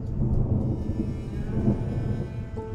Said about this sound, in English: thunder, great.